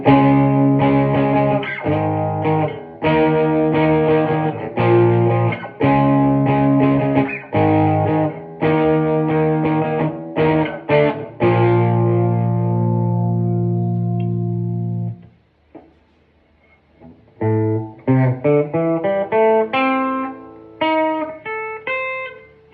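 Electric guitar played through a Marshall DSL 40c amplifier, loud distorted chords struck in a choppy rhythm, one ringing out and fading before a quieter flurry of picked notes.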